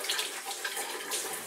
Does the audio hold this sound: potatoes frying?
no